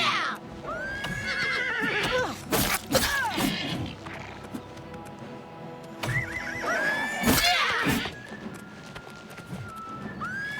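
A horse in the video game Oblivion Remastered neighs loudly twice, high shrill whinnies separated by a pause, mixed with thuds and clattering hooves as it attacks.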